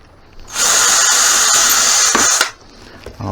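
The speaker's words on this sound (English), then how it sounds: "And again, I'll drill through the holes that I've made in this." A power drill bores through pre-drilled holes in a wooden piece for clamp storage, running as one steady, loud high-pitched whine for about two seconds before stopping, with faint workshop handling sounds after.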